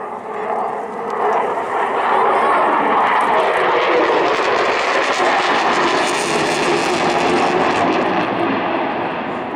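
An RAF Typhoon FGR4 fighter jet accelerates past at an airshow near 500 mph, a loud, sustained jet roar that swells quickly and holds, then eases slightly, with faint commentary beneath.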